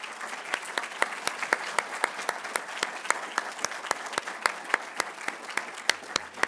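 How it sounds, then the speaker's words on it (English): A lecture audience claps for panelists at a museum exhibition talk, a thinner crowd whose individual sharp claps stand out in a steady, moderately quiet patter lasting throughout. "Let's give a round of applause for our panelists."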